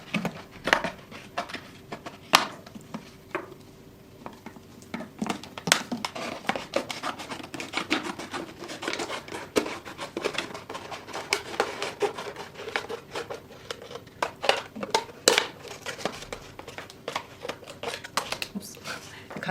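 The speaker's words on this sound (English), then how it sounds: "we continue this opening with scissors" Scissors cutting around a plastic bottle, giving a long run of quick crisp snips and crackling plastic crinkles up close, with a voice talking over part of it.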